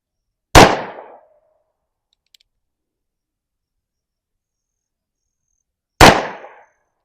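Two loud, sharp gunshots from a .22 Magnum Colt Peacemaker revolver, spaced several seconds apart with near silence between them, each with a short ringing tail, fired outdoors at close range.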